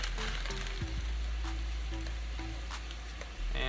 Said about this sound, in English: now that our water is boiling, we're just going to put in about half of our